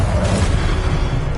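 A Confringo spell explodes in Hogwarts Legacy, a loud, dense burst of booming noise filling the whole moment with rumble, with no talk over it.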